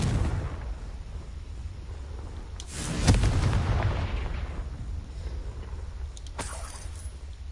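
A Confringo spell explosion in Hogwarts Legacy: a sharp booming blast rolls out into a fading rumble, over low background game noise, followed by a softer burst a few seconds later, with no talking.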